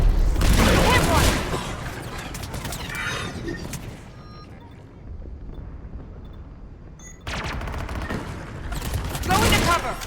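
Gunfire fills a Mass Effect 3 battle on Thessia, with loud rapid bursts at the start, a quieter stretch of distant rumble and voices, then heavy firing returning near the end.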